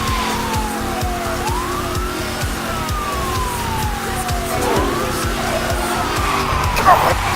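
A car in the racing video game Need for Speed Hot Pursuit drives fast with a steady engine roar, a police siren wailing and sweeping throughout, and tires skidding near the end, all loud and continuous.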